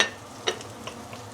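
Ginger, minced garlic and shallot sautéing in vegetable oil, a quiet sizzle with a couple of sharp spatula clicks against the pan, close and brief.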